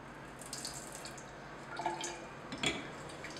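Liquid photographic powder developer pours off into a container, a soft trickle and splash with a brief louder gush near the end, close and fairly quiet, no voices.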